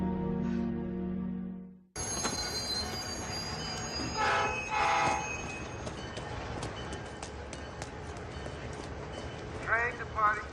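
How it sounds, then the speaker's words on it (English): A train moves through a railway station with rumbling wheels, metallic squeals and a horn blast, loud and continuous after a brief quieter opening that holds a voice. "Train departing to Boston will be on track 4."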